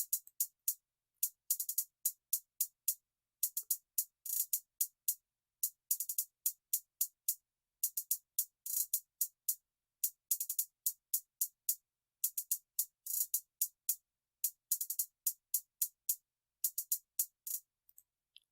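Trap beat hi-hats made in FL Studio, panned from left to right, a rapid crisp ticking pattern of short bright hits with quick rolls and brief gaps, alone with no other sound.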